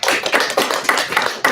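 Audience applause following a university lecture on migraine brain circuits at King's College London, a brief burst of many hands clapping together, close and loud, then stopping abruptly.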